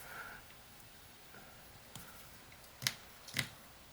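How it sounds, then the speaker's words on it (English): Pocket knife cutting into rhododendron wood: two sharp, close crisp snaps near the end of a quiet stretch, preceded by faint scraping. "I'm going to make a stop cut right about here."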